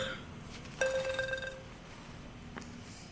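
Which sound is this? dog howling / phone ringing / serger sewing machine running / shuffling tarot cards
phone ringing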